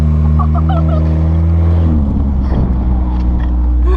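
Ford Mustang or Honda Civic engine with the mufflers removed, heard loud and close, holding a deep steady drone before rising into a rougher rev.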